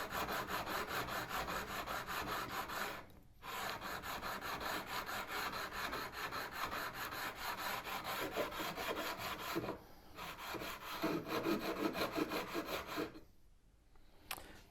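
Guitar frets being worked with a fret file and then sanded during a guitar build, a continuous close rasping scrape in steady back-and-forth strokes, broken by a few short pauses, with no speech.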